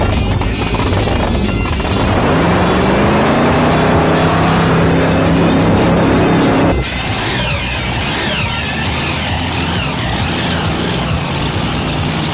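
Outlaw altered race car engines roar loudly and continuously in Ohio, pitch climbing as a car accelerates, then shifting abruptly to a different engine drone that continues to the end.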